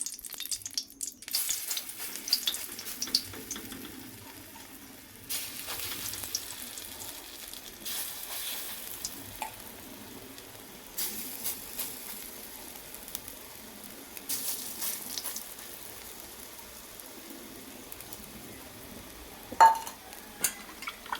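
Neem leaf fritters drop into hot white oil in a kadai and fry with a soft, steady sizzle that swells in bursts, with a single sharp clink near the end.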